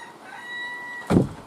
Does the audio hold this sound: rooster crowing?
yes